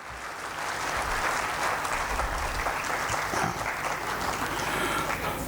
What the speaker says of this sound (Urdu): تالیاں جو ہیں نا اردو کے نام البلد لوگ ہی ایسا ہو سکتا ہے کہ وہ اتنی تالیاں بجائیں